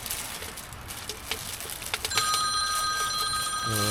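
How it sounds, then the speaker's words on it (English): A telephone rings inside a hot tent with a steady electronic ring over faint background noise, louder and sustained in the second half. "Right, there's the phone call"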